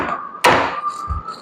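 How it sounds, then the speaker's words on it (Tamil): A filled cake tin is tapped once against a surface in a kitchen, giving a single sharp near knock followed by a soft low thud, over a steady background hum. "ஜஸ்ட்டு வந்து இப்படி டேப் பண்ணுங்க."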